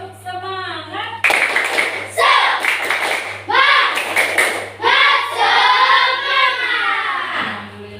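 Classroom pupils perform the tepuk semangat clapping chant, with loud rhythmic claps and children chanting together in bursts, led by their teacher.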